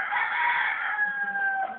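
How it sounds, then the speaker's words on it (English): A rooster in Haiti crows once nearby, a loud, drawn-out call that rises and then trails off, alone with no talk over it. "That's a rooster"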